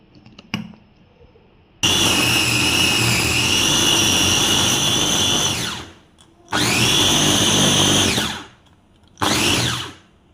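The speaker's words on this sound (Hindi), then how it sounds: "और ये मसाले जाएंगे और फिर से हम इसे अच्छे से चॉप कर लेंगे।" An electric chopper whirring through meat and spices for gola kabab, loud and close, in three pulses: a long run of about four seconds, a second of about two seconds, and a short final burst, each ending as the motor winds down.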